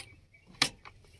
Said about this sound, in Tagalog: Kung naririnig nyo po, lumalagitik.